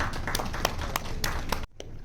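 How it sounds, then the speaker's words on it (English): Applause for a speaker at an ophthalmology conference, a dense wash of many hands clapping steadily in a hall, cutting off sharply near the end before a faint trailing clap. "A big round of applause, please."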